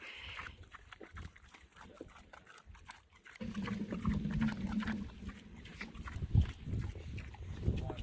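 Pigs being fed on a farm grunt and snort steadily, low and close, with a quieter stretch before a louder, busier run of grunting and a couple of sharp bumps; no talking.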